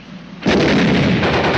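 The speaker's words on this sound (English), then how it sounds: "Keep firing, Heine." Gunfire erupts in an ambush scene from the 1951 war film The Tanks Are Coming: a sudden, loud, booming burst after a quiet moment, followed by sustained rumbling blasts with no voices.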